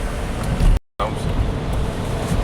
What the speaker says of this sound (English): Mile-long traffic jam.